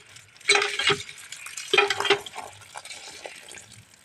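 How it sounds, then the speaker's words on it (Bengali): Cut fish get washed by hand in water inside a basket, with two distinct bursts of splashing and sloshing, followed by softer dripping and stirring of the water. "এই যে বন্ধু দেখতে পাচ্ছ, জলে আমি মাছগুলো ধুয়ে নিচ্ছি"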